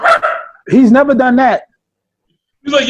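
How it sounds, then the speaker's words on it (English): A pet dog barks a couple of quick yips and whimpers in a home while someone talks over and between the sounds, close and fairly loud. "I'm sorry, that's my dog."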